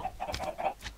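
Chickens in the video game Minecraft, a short burst of several quick, close clucks in a row.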